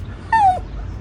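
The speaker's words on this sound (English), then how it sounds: "That's the dog passing" A dog gives a single close, high whimper, a short falling whine, against quiet background noise.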